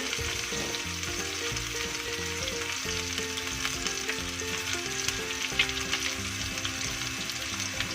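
Chayote shoots stir-fried with oyster sauce in a hot pan, an even close sizzle of frying running throughout with faint stirring scrapes and no voices.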